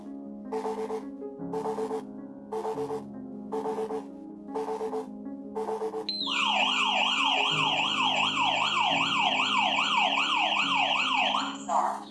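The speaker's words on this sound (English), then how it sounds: "the alarm begins counting down and will eventually sound once the countdown is changed" A HESTIA smart-home security control panel beeps in six evenly spaced tones during its countdown after an entry sensor opens, then breaks into a loud, continuous warbling electronic alarm siren.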